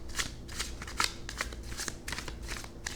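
Tarot cards riffle and flutter in quick repeated shuffling bursts, close and crisp, roughly a handful of snaps spread evenly across a few seconds, with no talking.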